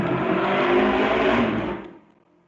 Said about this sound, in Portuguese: Passou outra moto aqui, quase ainda no meu ouvido.